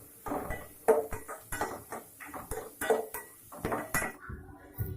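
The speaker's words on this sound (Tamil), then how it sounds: "வெங்காயம் சேர்த்து நல்லா வதக்கி எடுத்துக்கிறலாம். வெங்காயம் நல்லா வதங்கட்டும்." Onions being sautéed in a pan with a spoon, heard as a series of close, sharp clinks and scrapes of the spoon against the metal pan in an irregular rhythm, with no talking.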